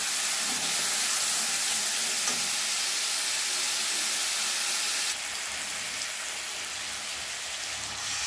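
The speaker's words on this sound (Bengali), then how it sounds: "এবারে তেঁতুলের পাল্পটা আমি দিয়ে দেব।" Tamarind pulp hitting a hot tempering in a pan for a sour fish curry, giving a dense, bright, steady sizzle that softens slightly partway through, with no talk.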